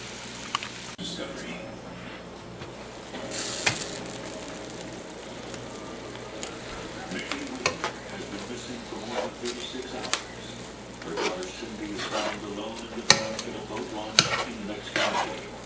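Brisket Philly cheesesteak filling simmers and sizzles in a pan, a steady soft frying hiss with occasional stirring scrapes and clinks of utensil against metal, fairly quiet and close.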